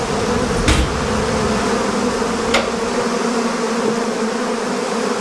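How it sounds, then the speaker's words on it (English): A dense, continuous swarm of bees buzzing, a steady droning hum at close range, with a couple of brief sharp clicks standing out and no voices. "Million bees buzzing throughout the metropolitan area."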